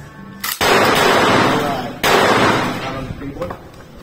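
A CZ Scorpion EVO fires at an outdoor shooting range in two loud, close bursts of rapid shots, each trailing into echo, with voices talking around the firing.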